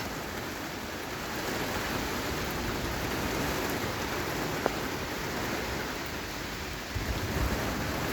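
Heavy summer rain from the Genoa low Gabriel pours over Gdynia in a steady, dense hiss that holds evenly throughout, with no voices.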